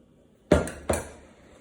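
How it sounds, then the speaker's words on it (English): A utensil strikes a dish twice in quick succession while salsa is mixed into cooked couscous, giving two sharp, close clinks that ring out briefly into near silence. "I'm gonna go and mix in some of our salsa."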